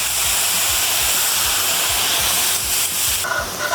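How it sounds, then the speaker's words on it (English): White wine hits a hot chicken roasting pan to deglaze it, giving a loud, continuous hissing sizzle close by, with a burst of steam near the end. "we're going to take this pan and we're going to deglaze it with a bit of good white wine"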